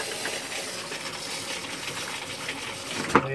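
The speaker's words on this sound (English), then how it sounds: "Flush the toilet." A camper's toilet flushes with a steady hissing gush of water, close and continuous, ending in a sharp clink or clunk right at the end.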